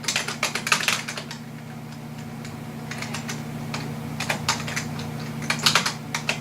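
Fingers type a password on a computer keyboard in a quiet room, a close, irregular patter of key clicks in quick bursts with brief pauses between, no voices.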